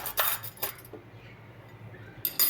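New dessert spoons, dessert forks and teaspoons clink and rattle against each other in a few bright metallic bursts, close up, with a quiet pause between the clusters.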